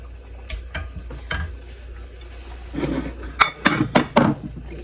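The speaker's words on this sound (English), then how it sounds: "I'm just getting my spaghetti, putting my meat in my in his bowl" Spaghetti noodles and meat served into a bowl at home, with scattered clinks and scrapes of utensils against dishes, growing louder and busier toward the end, no talking.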